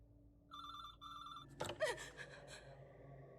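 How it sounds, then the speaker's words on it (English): A telephone rings in two repeated bursts of a bright electronic tone, followed by a sharp gasp and scattered clatter nearby, with no speech. "Pick up, it'll keep on ringing."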